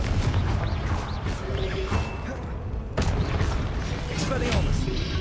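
Blasting-curse explosions from Hogwarts Legacy boom repeatedly in close, loud bursts, one big blast near the middle, over a dense bed of game effects and rumble; no speech is heard.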